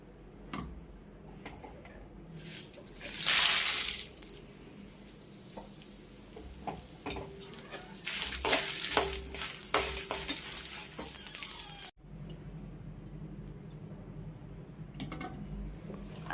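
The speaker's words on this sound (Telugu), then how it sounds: "మూకిట్లో ఈ నువ్వులు వేసుకున్నానండి. వీటిల్ని ఇలా వేపేసుకోవాలి. వచ్చి ఆయిల్తో వేపుకోవాలండి." Sesame seeds roast in oil in a pan while being stirred for gongura chutney, with light crackling sizzle, scraping stir strokes and bursts of louder frying, no voices.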